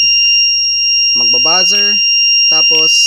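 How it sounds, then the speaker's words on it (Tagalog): A smoke sensor alarm buzzer sounds continuously after detecting smoke, a loud steady high-pitched electronic tone held throughout while someone talks over it. "Magbabuzzer."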